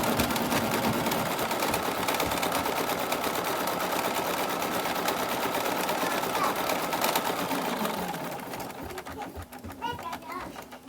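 Fast, steady mechanical whirring of an embroidery sewing machine stitching a placement line on quilt fabric, close and constant, then thinning to lighter tapping near the end, with a person talking over it.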